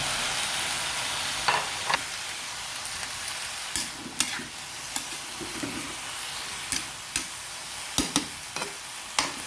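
Vegetables are stirred in a hot pan with pepper added, giving a continuous frying sizzle broken by sharp scrapes and clicks of the utensil at irregular intervals, close up and with no talking.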